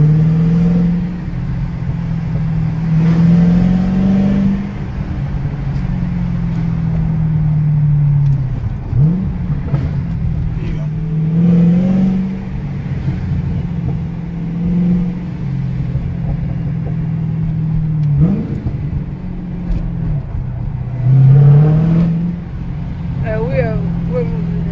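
A modded Hellcat with a 6.2 V8 and a manual gearbox rumbles and revs in repeated swells, with deep engine drone rising and falling from inside the car under ongoing talk. Crackles and pops are not clearly distinct.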